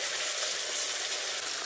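Ground spice paste hits hot oil already seasoned with whole spices, for a vegetarian potato and pointed gourd korma, and gives a loud, continuous, close sizzle and crackle with no voices.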